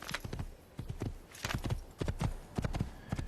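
Horse hooves clip-clop in a steady, uneven rhythm across a road in the video game Assassin's Creed, close and moderately loud, with a faint whinny-like tone mixed in and no talking.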